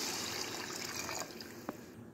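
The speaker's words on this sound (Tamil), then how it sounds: "இப்போது தண்ணியை ரைஸில் ஆட் பண்ணிடலாம்." Steady running water pours continuously into a pot of rice for prawn biryani, a broad wash of liquid noise with a faint clink near the end.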